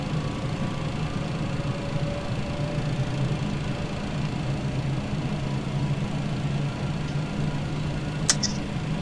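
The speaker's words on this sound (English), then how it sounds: "that looks like a good engine start on the engine that's in the tail" TFDI MD-11 FedEx freighter's tail-mounted number 2 engine running up after start in a flight simulator, a steady low rumbling drone with a faint rising whine, continuous and even throughout, no talking.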